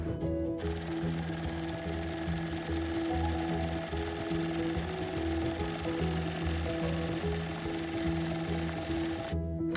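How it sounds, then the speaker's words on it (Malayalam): Sewing machine running steadily, stitching fabric for a simple designer kids' yoke frock, a continuous close mechanical whir with a brief pause at the start and end. "ഇനി നമുക്കിത് സ്റ്റിച്ച് ചെയ്തെടുക്കാം."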